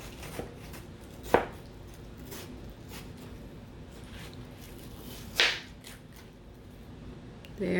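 A kitchen knife slices through a watermelon with a few sharp, isolated cuts and thuds spaced seconds apart, close and fairly quiet against a faint room background.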